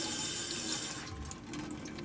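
Water runs and splashes onto a damp rag wheel for a polishing lathe, then is squeezed out of the cloth, a steady broadband rush that thins to softer wet dribbles near the close, with no voices.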